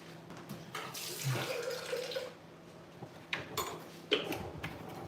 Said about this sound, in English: I'm going to shake it out with some water